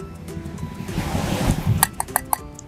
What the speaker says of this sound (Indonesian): Jadi sekarang kita ada di pantai.